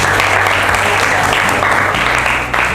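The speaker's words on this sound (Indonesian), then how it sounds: "tepuk tangan untuk kelompok" Classroom applause for a presenting student group after a weather and climate analysis presentation, a loud, close burst of dense clapping sustained for a few seconds with faint voices underneath.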